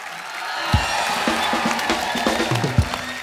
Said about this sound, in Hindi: एक बार हमारे प्यारे अन्ना जी के लिए जोरदार तालियां